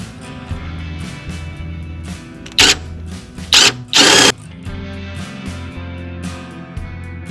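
A power tool whirs in short bursts while tightening front upper control arm bolts on a Jeep WJ, with three loud impacting hammering spurts mid-clip over a low idle-like drone, close up.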